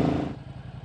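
A rebuilt Ducati Hypermotard's dry clutch rattles at idle, a close, loose metallic clatter riding a low engine rumble that fades slightly after a brief rev.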